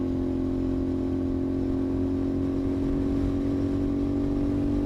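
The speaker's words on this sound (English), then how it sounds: "I feel like the exhaust might be a little loud for the vlogs now" A CFMOTO 450SS motorcycle fitted with an IXIL exhaust runs with a steady, loud engine drone and a constant low hum throughout, with no revving.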